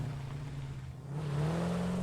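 Car engine droning steadily in the video game Satisfactory, its pitch climbing as it accelerates partway through, loud and close with no voices.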